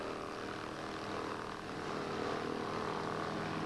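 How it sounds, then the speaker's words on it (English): Entec Chippet 30DH wood chipper powered by a 30 horsepower Kubota four-cylinder water-cooled diesel engine, running with a steady, loud, continuous droning hum and no change in pitch or level. "Fitted with a 30 horsepower Kubota 4-cylinder water-cooled diesel engine, low-load feed hopper and twin hydraulic feed rollers, this machine chips fast and effortlessly"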